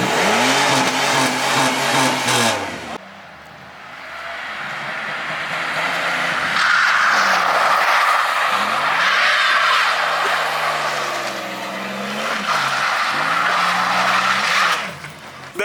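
An 800HP Chevrolet Silverado truck driven hard, with loud screeching tire skids and roaring engine revs in repeated bursts, a brief drop near the start, then sustained squeal and rising, falling engine pitch up close.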